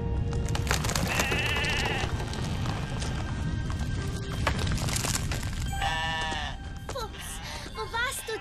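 Cartoon sheep bleat in short wavering bursts amid galloping hooves and commotion, fairly near, with characters speaking over parts of it.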